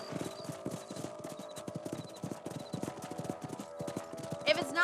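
A horse's hooves clip-clop in steady, quick beats in Red Dead Redemption, moving at a trot across the ground, close and clear, with a short whinny near the end and voices talking over the hoofbeats.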